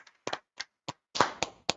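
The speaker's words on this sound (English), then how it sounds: "Let's clap it up." A small group claps in sparse, uneven claps, close and fairly quiet, with a few louder claps bunched together near the end and no talk.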